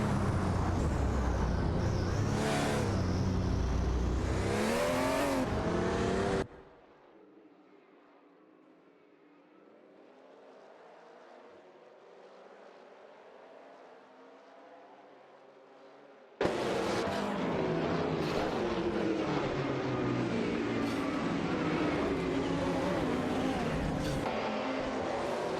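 Mercury Cougar XR7 IMSA and Audi 90 IMSA GTO race cars in a racing video game, engines roaring loud and dense, then dropping to a faint, distant hum for about ten seconds before surging back at full volume.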